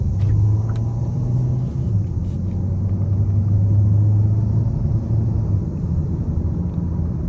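A 2024 Hyundai Sonata Hybrid SEL with a 2.0 four-cylinder hybrid pulls under acceleration, a steady low engine drone and road rumble heard from inside the cabin, holding fairly loud throughout.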